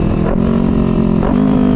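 A motorcycle engine revs steadily during rev matching on a downshift, with a couple of brief pitch rises over a continuous loud drone, close by and alone.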